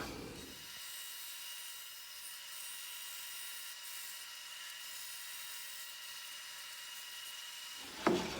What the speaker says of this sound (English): I have that little piece of MDF here set up on my bandsaw, my circle cutting jig